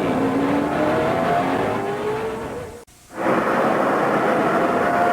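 NASCAR Cup cars racing at New Hampshire during the 2005 New England 300, a loud continuous roar of engines with rising pitch as cars pass close, briefly dipping before the full pack sound returns.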